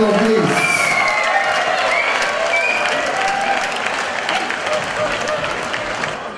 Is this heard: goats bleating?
no